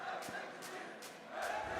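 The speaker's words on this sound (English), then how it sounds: "Listen to that crowd." A crowd in an esports stadium at the Gamers8 Rocket League tournament cheers and chants from a distance, faint but lively, with rhythmic surges of noise.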